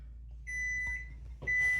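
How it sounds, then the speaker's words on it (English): A kitchen timer beeps in a home kitchen, two steady electronic tones separated by a brief clatter, over a low hum. "Literally as this clock was going off."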